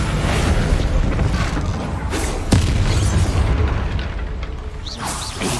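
The Bombarda explosion spell in the video game Hogwarts Legacy: a loud, dense, rumbling blast that sustains for several seconds, with a sharp crack near the middle and whooshing tails at the end.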